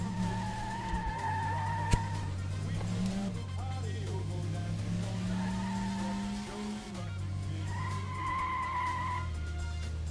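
Car skidding through a handbrake slide with tire squeal in the Metropolis Street Racer racing game on Dreamcast, the engine droning steadily and shifting pitch while squealing tones rise and fall over it.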